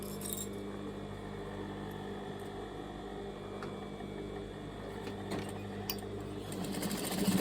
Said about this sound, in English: stitching the bias binding in place, and I'm going to stitch with the right side of the fabric facing up